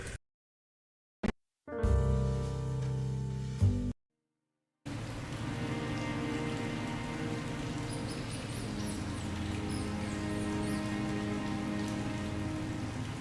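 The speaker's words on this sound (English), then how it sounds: "Biblical rain pummels the city," Heavy rain pours steadily onto city streets in the game Calvino Noir, a dense continuous hiss of drops after a few brief bursts of other sound at the start.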